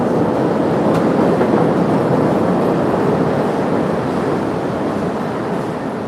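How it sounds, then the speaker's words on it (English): A train rumbles by on an overhead track in a city street, a loud, steady, close roar that holds for several seconds and only slightly eases at the end. "we've got a train going overhead"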